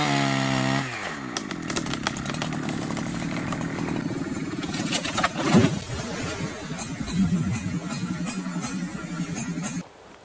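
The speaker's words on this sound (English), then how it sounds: "As I cut in and weaken the tree, I'll keep driving the wedges in tighter and tighter to make sure the tree falls the way I want it" A chainsaw cuts into a tree trunk during felling, with wedges being driven in. The engine revs up loud and close, then holds a steady, rough, high drone for about ten seconds before cutting out.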